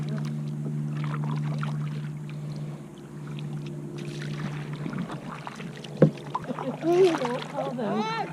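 A kayak being paddled off a Florida beach at Fort De Soto, with a low steady hum, light splashes and dips of the paddle, and voices talking over it.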